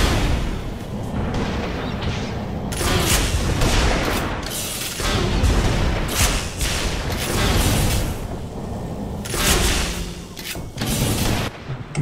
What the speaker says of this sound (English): I'm getting sniped still, coming in on my route